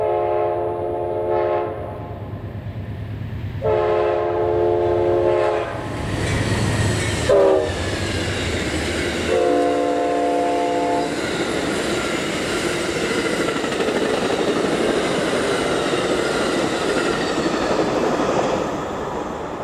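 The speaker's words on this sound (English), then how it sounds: "Amtrak train P098-06, the Silver Meteor," The Amtrak Silver Meteor passenger train passes close by, its horn sounding in several long blasts over a steady rumble of rolling wheels and wagons that carries on after the horn stops.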